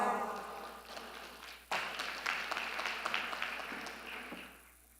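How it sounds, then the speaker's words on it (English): A hall audience at a global conference on ending violence against children gives a round of applause for the Cuban delegation, dense clapping that surges sharply partway through and then gradually tapers off. "A round of applause."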